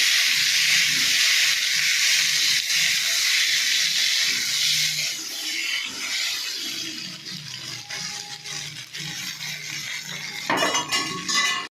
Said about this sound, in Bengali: আলুটাও লাল লাল করে ভেজে নেবো।